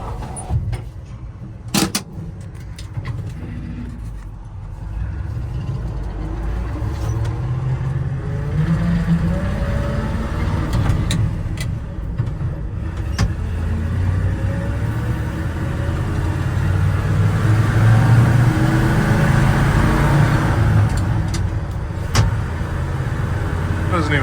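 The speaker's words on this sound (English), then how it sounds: "Using Michelle's truck to tow it. Pulls the trailer great." Michelle's pickup truck tows a trailer carrying a 1949 Ford F68 flathead engine uphill, its engine a low, continuous drone that builds in strength as it climbs, with someone talking over it at times.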